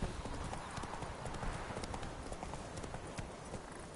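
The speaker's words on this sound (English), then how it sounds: "Whoa there, Roach." Hooves of Roach, the horse in The Witcher 3, clop steadily at a trot through a constant wash of ambient game noise. The rhythm is even, fairly faint and continuous throughout.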